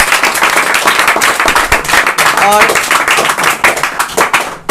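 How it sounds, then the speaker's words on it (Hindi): An audience claps loudly to welcome Indian army soldiers, a dense sustained burst of clapping through the whole stretch, with crowd voices mixed in and a brief whistle-like tone near the middle. "इन सारे वीरों के लिए एक बार जोरदार ताली से स्वागत कर दीजिए"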